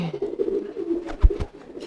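A pigeon gives a soft, low cooing call, a couple of throaty pulses close by.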